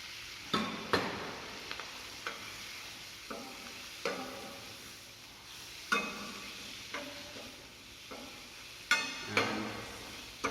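Spinach sautéing in a pan with butter, a soft continuous sizzle broken by repeated scraping and stirring strokes at irregular intervals, close by with no voices.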